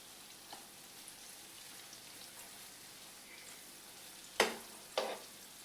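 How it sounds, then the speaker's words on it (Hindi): Egg bhurji, dhaba style, fries gently in a pan while being stirred, a soft low sizzle throughout, then two sharp, louder scrapes or clinks near the end, and no talking. "अब ये देखें भून चुका है, तो इसे मैं हल्का हल्का सा मिक्स कर रही हूँ"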